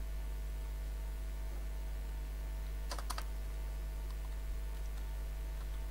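A few light computer keyboard keystrokes click close by over a steady low electrical hum, a short cluster of taps near the middle, otherwise just the hum, with no one talking.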